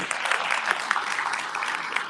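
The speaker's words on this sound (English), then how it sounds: "Big clap for him, please." Dense audience applause at a fundraising event in Melbourne, a short continuous burst of many hands clapping, fairly loud and close.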